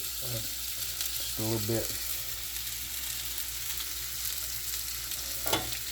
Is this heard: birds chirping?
no